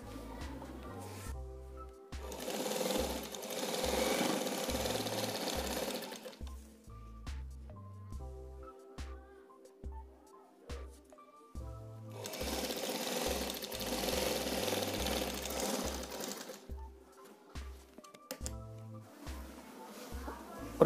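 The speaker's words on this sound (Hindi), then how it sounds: "इसको इस तरह से हम सिलाई कर लेंगे।" An electric sewing machine stitches a side slit strip on a kurta in short repeated runs, its fast mechanical whirring starting and stopping with pauses between bursts, while someone speaks in Hindi over it.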